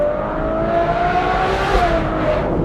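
A Ferrari 812 GTS V12 fitted with a Novitec exhaust howls loudly while driving, its engine note rising and falling through a smooth pull with no talk over it.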